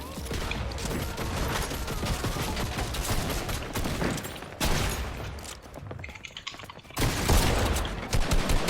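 Gunfire in the video game Fortnite: continuous rapid volleys of shots, loud and close, with brief pauses between bursts and no talk over it.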